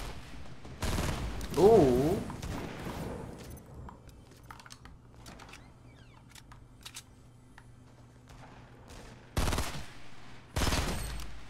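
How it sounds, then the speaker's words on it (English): Bursts of video game gunfire crackle in short loud volleys near the start and end, with quieter scattered shots and clicks between and a brief exclamation from a player. "No, I shot him for so much."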